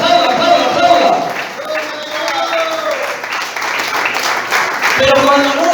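A church congregation clapping along, dense rhythmic hand claps that run under a preacher's voice and lively singing throughout.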